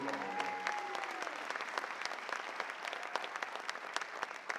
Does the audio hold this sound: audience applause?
yes